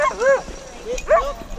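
Sled dogs in Alaska yip and whine excitedly after a run, giving two bursts of rising, wavering yelps close by amid soft background noise.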